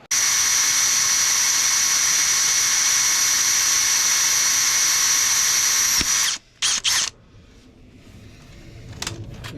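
A power drill with a 4.2 mm bit whines loudly and steadily for several seconds while boring out a snapped stud in an engine, then stops, followed by a couple of short bursts and quieter workshop noise.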